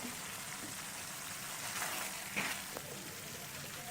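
Potato and anchovy sambal sizzles quietly in a pan, a faint, steady crackling hiss with a couple of brief louder pops.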